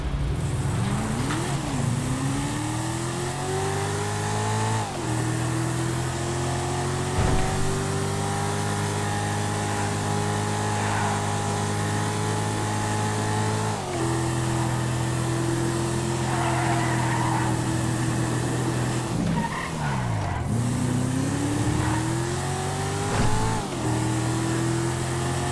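A sports car engine in a driving video game, loud and close throughout, its pitch climbing through the gears with repeated shifts and dips as the car accelerates, heard alone without talk.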